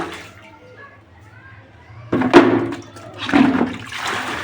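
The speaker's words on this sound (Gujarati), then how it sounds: "તો અત્યારે ભરી રહ્યા છે આપણે પાણીની બાલટી" Water gushes into a bucket in two loud bursts with a quieter trickle between, set against a low background hum.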